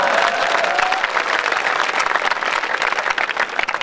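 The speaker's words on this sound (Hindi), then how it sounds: "भी के लिए ताली बजाओ।" Audience at a night-time Hindi poetry gathering (kavi sammelan) in Rajasthan breaking into sustained, dense applause, steady and loud throughout.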